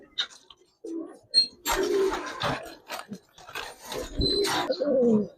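Giribaz pigeons coo in several soft, throaty bursts at close range, with pauses between calls, alongside faint bird chirps and light handling noise.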